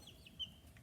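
Three-week-old backyard chicks in a small coop give a faint, brief high chirp or cluck, soft and distant over a quiet background.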